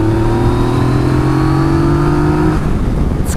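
A 2018 Yamaha Tracer 900 motorcycle engine hums at low revs with a steady droning tone, close and loud, the pitch holding level before it drops away after a couple of seconds.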